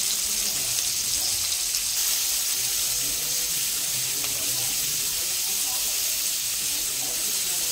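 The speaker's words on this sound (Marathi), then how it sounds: "आता त्याच पॅनमध्ये मी थोडंसं तेल घेणार आहे आणि त्यामध्ये एक बारीक चिरलेला कांदा" Finely chopped onion frying in a little oil in a pan: a dense, even hiss with a faint watery crackle, steady at close range from start to finish.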